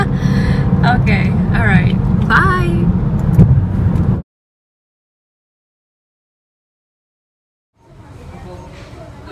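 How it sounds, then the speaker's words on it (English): Interior of a moving car, a loud low engine and road rumble with someone talking over it for about four seconds, then a sudden cut to silence before the cabin noise returns more quietly. "My husband's driving like crazy right now."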